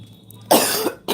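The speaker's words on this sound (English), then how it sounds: "had to clear my throat for that." A woman clears her throat in one short, harsh burst followed by a brief second rasp, close and loud against a quiet room.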